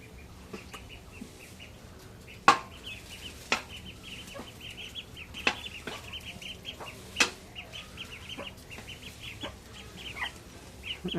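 Ducks call repeatedly in quick, scattered bursts, with a few sharper sudden notes over a quiet outdoor background.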